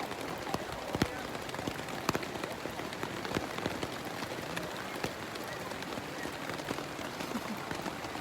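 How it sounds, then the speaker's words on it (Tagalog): Heavy rain pours on a mountain camp in the tent area, a dense, steady hiss of drops with scattered sharper taps on nearby surfaces, loud and continuous throughout with no clear talk. "Grabe jud kaayo ka kusog sa ulan."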